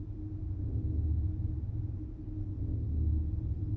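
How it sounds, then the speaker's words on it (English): A low, steady, thunder-like rumble from a powered linking book in the Riven video game rolls on continuously at moderate level with no voices. "You hear that thunder noise, and you hear that?"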